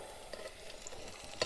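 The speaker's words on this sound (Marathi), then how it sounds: "ते वाटाणा सुद्धा याच्यात आहे ना चांगलं तळून घ्यायचं।" Green peas frying in hot oil with cumin for masale bhat, a soft steady sizzle with faint stirring scrapes, close and quiet, no voices.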